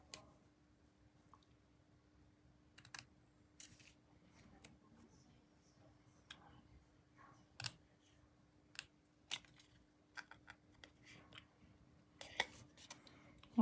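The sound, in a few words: scissors cutting a paper banner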